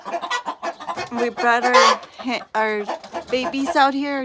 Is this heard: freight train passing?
no